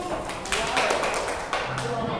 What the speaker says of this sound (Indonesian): Tepuk tangan semuanya untuk kelompok 4.